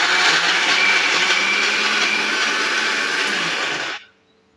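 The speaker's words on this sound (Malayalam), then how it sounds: "ഇനി നെക്സ്റ്റ് പാലൊഴിച്ച് മിക്സ് ചെയ്യാം. നമുക്ക് മിക്സ് ചെയ്യാം." A blender runs steadily for about four seconds, mixing a milkshake with milk, a loud, even whirring drone up close that cuts off abruptly near the end, with no talking.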